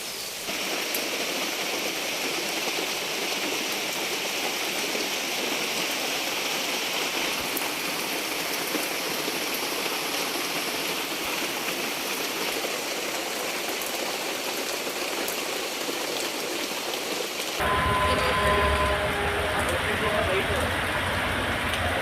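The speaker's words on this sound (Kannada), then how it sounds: "ಮಳೆ ಇದೆ ಅಂತ ಕಾಣ್ತಿದೆ" Steady rain falls in and around Napoklu town in Kodagu as an even, continuous wash of hiss, shifting to a slightly different tone near the end.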